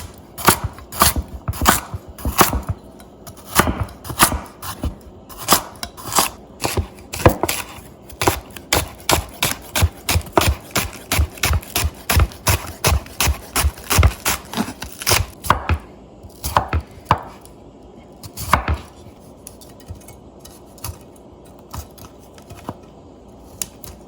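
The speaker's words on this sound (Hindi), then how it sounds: "फटाफट से हम क्या करेंगे, सब्जियां काट लेंगे" A knife chops vegetables for a vegetarian biryani, with rapid, evenly spaced blade strikes on a cutting board that run for a long stretch, then slow to a few sparse, separate chops near the end.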